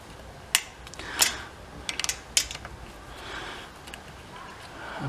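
A ratchet tightens a bolt on a front bike basket, clicking in short, sharp bursts close up: a few separate clicks, then a quick cluster, then quieter fiddling.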